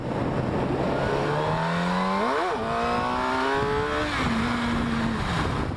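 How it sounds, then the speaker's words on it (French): A motorcycle engine revving through a wheelie on the road, a loud, close engine rising steadily in pitch, then dropping and holding a lower tone over constant wind noise, with no talking. "Allez, on va aller sur un petit wheeling vite fait."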